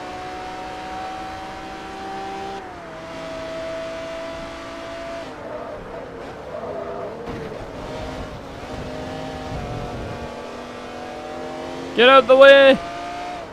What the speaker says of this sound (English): Okay, so the Bugatti's overtaking me.